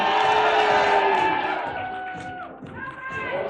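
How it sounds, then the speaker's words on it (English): A crowd at an outdoor lumberjack show in Ketchikan, Alaska cheers and whoops for a log climber, with a loud, sustained roar that gradually fades. An amplified announcer's voice carries over the noise. "Give your man Jake a round of applause."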